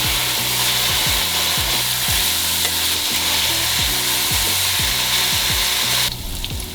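Beef sears on a hot griddle for Philly cheesesteak, a loud, steady sizzle running throughout with a few scraping, stirring strokes of a spatula, alone without talk.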